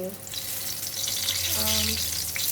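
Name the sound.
brinjal (eggplant) frying in a pan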